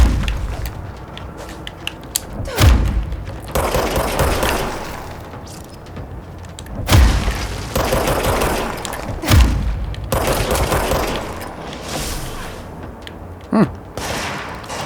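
Gunfire from an infinite-ammo gun in the action video game Control: heavy booming shots at irregular intervals, several strong blasts with rumbling tails over a continuous loud game backdrop.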